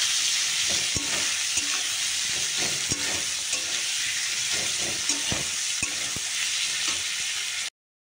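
Masala of ginger, tomato, onion, chilli powder and turmeric stir-frying in oil in a wok, a loud steady sizzle with regular knocks and scrapes of the spatula, close by, ending abruptly in silence.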